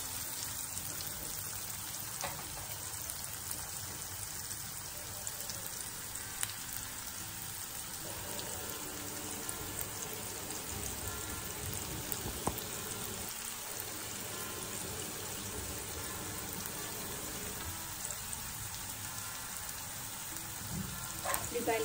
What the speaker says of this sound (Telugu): సో ఉల్లిపాయలు బాగా వేగాలి.